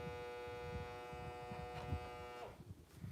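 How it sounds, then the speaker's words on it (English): A faint steady electric hum from a vacuum sealer drawing air out of a food package on a homestead, holding an even tone before cutting off near the end, with no talk. "It's sucking the air out."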